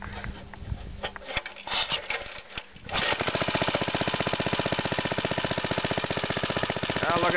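An old tiller engine that sat all winter sputters and catches after a few faint attempts, then runs steadily with a loud, fast, even chugging beat close by.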